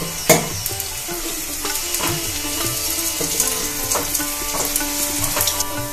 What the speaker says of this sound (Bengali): বড়াগুলো লাল লাল করে ভেজে তুলে নেব